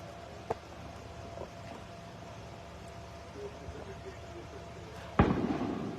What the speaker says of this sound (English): Boy, those fireworks don't help.